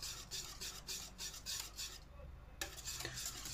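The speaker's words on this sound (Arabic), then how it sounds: "كيما راهي سخونة خلطوها" Hot basbousa mixture with butter being stirred in a bowl, a steady scraping, rubbing rhythm of repeated strokes close by, with a short pause near the end before the stirring resumes.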